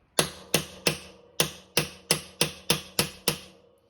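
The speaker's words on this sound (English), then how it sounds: "Just pound it in. I need a bigger hammer" Ten sharp hammer blows pounding a star nut into the steer tube of a Talaria Sting R ring out in a steady rhythm, each a loud metallic strike with a short decaying ring, no talking.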